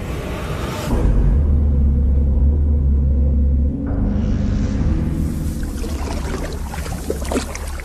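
A sandstorm's deep, roaring wind rumble, loud and constant, surging stronger about a second in and then shifting into a broader hiss of blowing sand.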